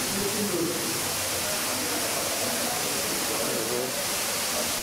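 A ceiling-mounted blower in a Polish train wash hall forces a warm 40 °C air stream through ducts under the wagon undercarriages, producing a steady, loud broadband rush of air that holds unbroken throughout.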